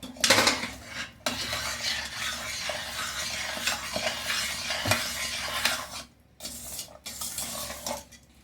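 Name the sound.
stirring ghee, cashews and raisins into sweet pongal in a pan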